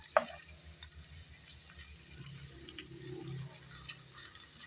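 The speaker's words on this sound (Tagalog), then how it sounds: "pagisa yung ating isda" Tuna fish fillet sautéing in a pan for a simple home-style fish steak, with a soft, steady sizzle and occasional stirring scrapes at close range, fairly quiet and without talk.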